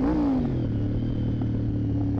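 A Honda VFR 750 motorcycle engine revs briefly up close, its tone sliding down from a high rev into a steady, throbbing mid-pitched idle over a couple of seconds.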